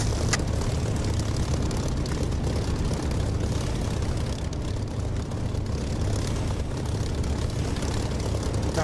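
A propeller warbird in DCS World, Spitfire-type engine, rumbles loudly and steadily as it taxis off the runway, a continuous low engine drone with no pauses.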